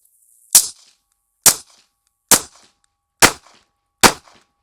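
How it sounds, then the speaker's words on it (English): Five handgun shots fired one at a time at a target from 5 yards, sharp loud close reports spaced evenly about a second apart with silence between them. "we're going to start at 5 yards, do 5 shots, go from there."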